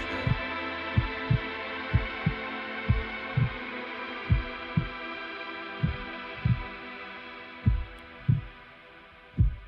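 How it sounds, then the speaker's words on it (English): Heartbeat effect in a metal song's breakdown section: a steady double-thump pulse, about one beat per second, low and prominent over a sustained droning band of music. "They did the same thing here with the heartbeat sound."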